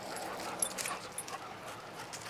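A dog whimpers indoors, with faint, thin high whines repeating softly over quiet background noise.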